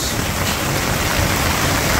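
Heavy downpour at a village market, a dense, constant hiss of rain hammering surfaces, loud and steady with no gaps and no voices.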